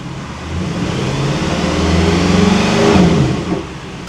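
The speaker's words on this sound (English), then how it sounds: "Just doing a few rev tests to get a bit of movement of the water." A Mercedes C63 AMG engine revving during a stationary rev test, rising steadily from idle to a sustained higher-pitched rev and then dropping back, close and loud.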